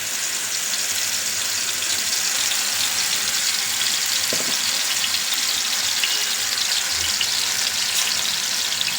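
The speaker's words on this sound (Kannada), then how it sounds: "ಇವಾಗ ನೋಡಿ ಆಯಿಲ್ ಕಾದಿದೆ. ಇವಾಗ ನಾವಿಲ್ಲಿ ರುಬ್ಬಿಟ್ಕೊಂಡಿದ್ವಲ್ಲ ಪೇಸ್ಟು, ಶುಂಠಿ, ಬೆಳ್ಳುಳ್ಳಿ ಮತ್ತು ಈರುಳ್ಳಿ, ಈ ಪೇಸ್ಟನ್ನ ಈಗ ನಾವು ಇಲ್ಲಿ ಹಾಕ್ಕೊಬಿಡೋಣ." Ginger, garlic and onion paste frying in hot oil for a chicken dish, a steady broad hiss of sizzling that holds evenly and loudly throughout with no voices.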